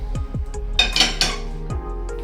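A spoon stirs potato babka ingredients in a bowl, with close, bright clinks and scrapes against the dish, a few soft knocks, then a short cluster of louder metallic rattles.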